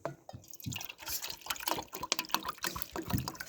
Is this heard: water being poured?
yes